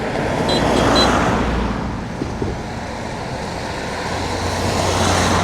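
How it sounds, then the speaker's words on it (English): Strong gusting wind buffets a microphone beside a busy road, a broad roaring rush that swells and eases, with passing traffic rumbling underneath and a brief faint beep partway through. "It's very windy today, so I hope you can hear me properly."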